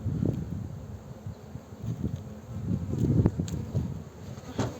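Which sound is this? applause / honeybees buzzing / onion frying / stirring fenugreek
honeybees buzzing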